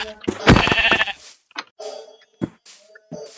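A Minecraft sheep bleats loudly in one wavering cry, followed by several shorter, quieter bleats and hit sounds spaced out over a few seconds, heard alone.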